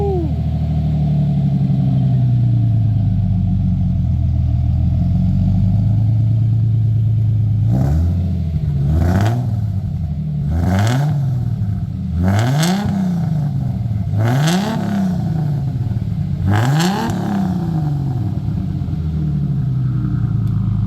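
A manual Lexus IS300 with a freshly welded 3-inch exhaust and muffler idles steadily, then gets several sharp throttle blips in a regular rhythm, each rev climbing and dropping quickly, loud and close.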